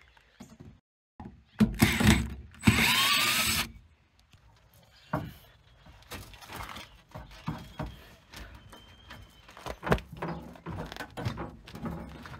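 Screws come out of the fuel filler neck of a Grumman LLV mail truck, with close metallic scraping, rattling and handling clatter, one loud burst early, then scattered knocks and rubbing.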